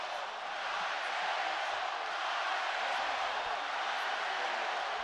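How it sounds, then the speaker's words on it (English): A large boxing arena crowd at the Canelo Alvarez vs Gennady Golovkin fight roars steadily in a broad, continuous wash of cheering, with a slight swell partway through. "Crowd are getting into it."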